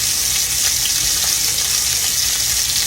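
Meatballs fry in a pan with a loud, dense, continuous sizzle close up, steady throughout without pause or voices.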